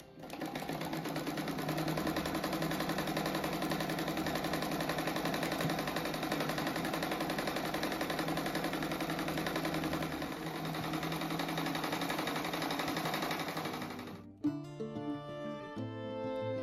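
An electric sewing machine stitches a fabric strip around the edge of a patchwork cushion, running in one long steady whirring burst before stopping abruptly, close and even.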